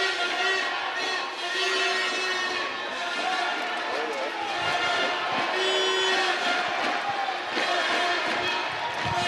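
Large arena crowd at the 2017 World Judo Championships roaring in support of Hungarian judo athletes, a sustained, swelling cheer under a commentator talking throughout.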